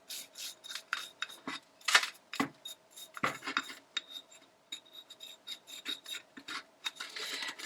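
Rubbing and brushing dirt off a plaster of Paris animal track cast with a soft tool, a series of close, dry scratchy rasps in irregular bursts, fairly quiet and with no talk.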